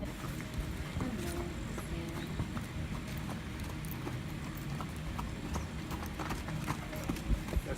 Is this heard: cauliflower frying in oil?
no